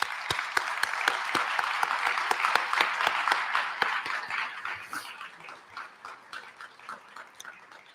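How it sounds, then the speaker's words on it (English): Audience applause at an association's 81st annual meeting and award ceremony, crisp individual claps ringing out loud at first, then thinning and fading over several seconds. "please recognize them and give them a hearty round of applause"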